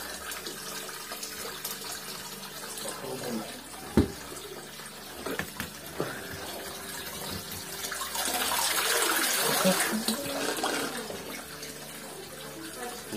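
Spring water flows and splashes at an outdoor bathing place in Undory, Russia, a moderate continuous trickle with a few sharp knocks and a swell of louder splashing midway.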